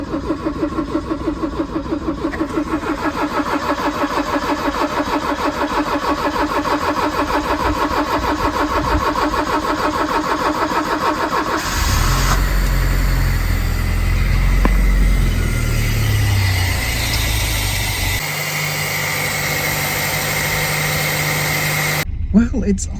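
A Vauxhall Cavalier Mk2 engine, with the choke pulled out, cranks and catches, then settles into a steady mid-pitched idle with a slight vibration, continuing without talk until a sharp cutoff.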